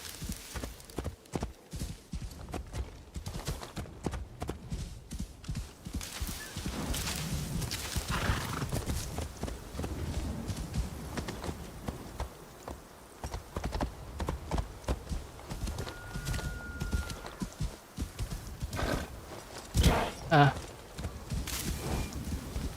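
Horse hooves clip-clop steadily while riding in a video game, with occasional neighs and rhythmic footfalls, mixed under intermittent talk and game sound.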